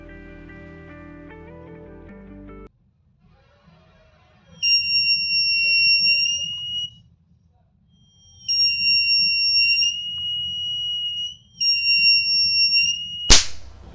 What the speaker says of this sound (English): Whenever I put light on LDR, buzzer beeps, and on the removal it stops working.